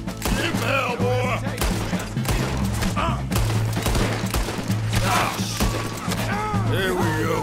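Dense gunfire crackles through a Red Dead Redemption 2 train robbery shootout, with rapid overlapping shots and thuds that keep up loud and continuous as someone talks over the battle.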